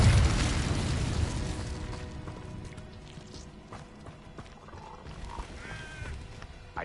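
An Incendio fire spell in Hogwarts Legacy goes off as a loud booming blast at the start, then fades into a rumbling tail with scattered crackles and small pops.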